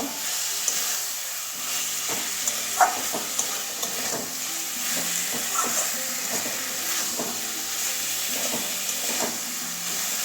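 Capsicum stir-fries in a hot pan, with a continuous close sizzle broken by repeated scraping strokes of a spatula that run unbroken for about ten seconds.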